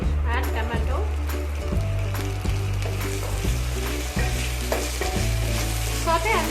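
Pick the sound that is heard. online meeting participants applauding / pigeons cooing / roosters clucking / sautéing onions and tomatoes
sautéing onions and tomatoes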